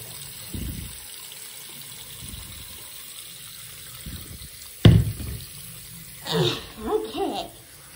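Water runs into a bath, a steady broadband wash with splashy bursts near the end, and voices talk over it at times.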